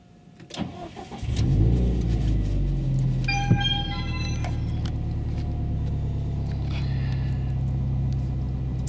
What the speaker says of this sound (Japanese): それではちょっとエンジンかけてみますね。